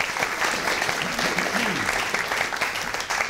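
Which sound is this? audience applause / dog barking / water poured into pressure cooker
audience applause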